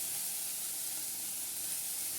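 Water poured into a hot pan of sautéed vegetables while making vegetable soup gives a steady, even sizzling hiss that stays moderately loud and unbroken throughout, with no talking.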